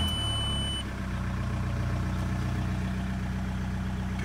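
A Volkswagen Jetta MK4 TDI diesel engine idles steadily right after starting, a close, even low-pitched rumble with a constant rhythmic knock, continuing alone without talk.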